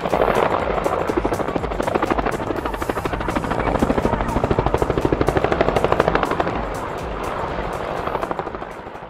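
Helicopter carrying heavy cargo, its rotor thumping in a loud, rapid, steady rhythm with dense engine roar throughout, close and continuous.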